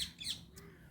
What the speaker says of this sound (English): The parakeet there.